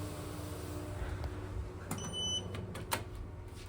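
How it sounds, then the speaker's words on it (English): Doors of a Schindler 5500 MRL traction lift sliding shut over steady background hum, a brief chime sounding before a couple of soft knocks and a final thud as they close. "Doors closing."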